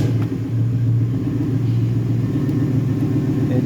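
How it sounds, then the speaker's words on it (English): A 2-door Chevrolet Tahoe truck engine runs steadily with a deep, continuous low rumble and hum, close and even throughout, with no voices. "Let me start up the truck"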